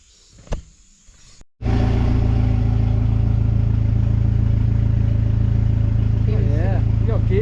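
Turbocharged BMW E36 with an M44 engine runs loud and steady, a continuous mechanical engine drone holding after a brief quiet start with a short thump, as though pulling through gears.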